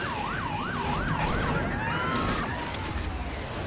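A police car siren wails in the racing game Asphalt Legends, its rising and falling tone cycling steadily over a loud, continuous engine roar and road noise before the siren fades out.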